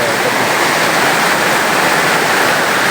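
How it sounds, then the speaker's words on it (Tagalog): Heavy rain pours down in a steady, dense hiss, loud and unbroken, with no voices over it. "Lumabot na rito yung ulan. Eh. Oh, lakas ng tubig, oh."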